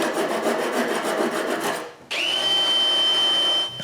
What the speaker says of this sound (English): In each hole, I add a dowel and cut the excess.